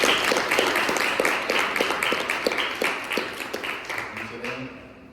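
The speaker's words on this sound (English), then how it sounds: "I want all our seat members to applaud all the adults that have worked to get this done for you" Applause at a press conference: an audience claps steadily, with individual claps distinct at first, then the clapping thins and fades toward the end as a voice begins to come through.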